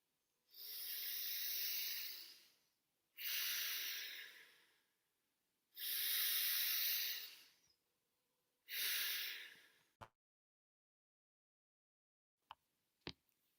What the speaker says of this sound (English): Keep breathing deep and long.